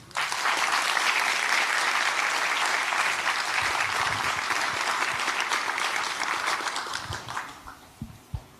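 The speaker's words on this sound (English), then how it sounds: "Let's give one more round of applause to Diya." Sustained applause from a crowd at a dance arangetram, steady and full for several seconds before tapering off into a few scattered claps at the end.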